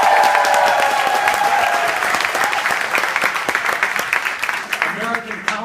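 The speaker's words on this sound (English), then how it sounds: "let's have every group give a round of applause for your group" Loud, dense clapping from a large audience at a closing congress session, steady at first and then thinning slightly into scattered sharper claps toward the end.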